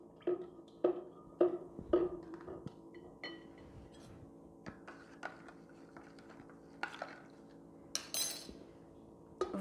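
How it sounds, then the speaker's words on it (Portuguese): Homemade transparent liquid soap mixture being stirred in a container, giving repeated clinks and scrapes of a utensil against the vessel at an uneven rhythm, close and fairly quiet, with no talking. "Vamos mexer."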